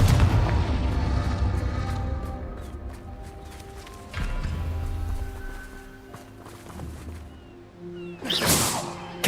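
Confringo explosion spells in Hogwarts Legacy go off as a series of booming blasts and crackling impacts, loud and close, with a bright burst near the end and no voices.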